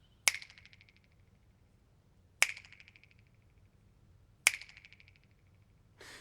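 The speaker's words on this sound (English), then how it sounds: "You can hear that echo bouncing back and forth in the room." Three sharp finger snaps spaced about two seconds apart in an empty room, each followed by a rapid fluttering echo bouncing between parallel walls and decaying quickly, with a brief voice starting at the end.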